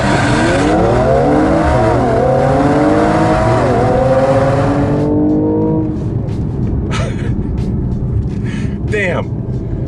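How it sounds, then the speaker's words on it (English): A 2019 Mercedes-AMG E53 straight-six mild hybrid in Sport Plus mode revs hard up through the gears, loud and close, with rising engine sweeps and shift breaks, then settles as a voice talks over the quieter cabin. "Did you hear that? I mean, the straight six has a unique sound."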